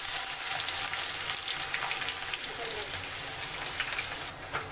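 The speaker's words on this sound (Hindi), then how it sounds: "अब इसमें सबसे पहले डाल देंगे बारीक कटा हुआ लहसुन। साथ ही में अब इसमें डाल देंगे बारीक कटा हुआ प्याज।" Finely chopped garlic and onion sizzle in hot oil in a pan for a white pea curry, a steady crackling fry with light spatter, fairly close and fading slightly at the end.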